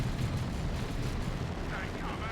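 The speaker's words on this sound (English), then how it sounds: "Grenade barrage. Travel very slowly, but they do hit the shooters." Grenade barrage blasts in the strategy game Dawn of War 2: Retribution, a dense, loud rumble of low booming explosions that runs steadily through the whole stretch, with busy battle noise layered on top.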